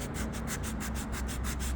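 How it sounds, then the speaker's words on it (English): Hand sanding cracks in a painted Silverado truck box with a 120 grit sanding pad, a close, steady rasp of quick back-and-forth strokes in an even rhythm, no voices. "I'm just gonna hit it with this 120 grit pad for my sander,"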